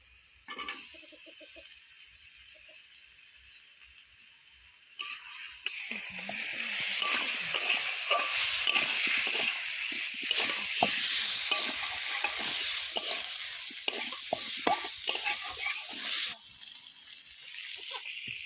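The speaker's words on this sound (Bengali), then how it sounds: "আমার মশলা ভালো করে কষানো হয়ে গেছে, এবার সিদ্ধ করে রাখা কচু দিয়ে দেবো।" Boiled taro goes into a spice paste frying in a pan. A faint simmer first gives way to a loud burst of sizzling, then continued sputtering and stirring scrapes.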